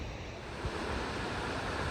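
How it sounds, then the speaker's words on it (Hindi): The Parvati waterfall on the Shrikhand Mahadev trek roars with rushing water, a dense continuous wash of noise heard from some distance, steady throughout with no voices. "ये सामने पार्वती झरना, जो कहा जाता है माँ पार्वती के आंसुओं से बना है"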